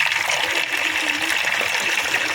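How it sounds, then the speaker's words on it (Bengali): Water poured and mixed into tetracycline powder medicine for pigeons; a close, steady trickling pour running unbroken for a couple of seconds. "তো এটার মধ্যে আমি একটু জল মিক্স করে দিচ্ছি।"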